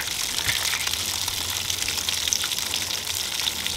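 Warm water from a hot-water tap gushes steadily into a container, a continuous bright hissing splash at close range with no talking.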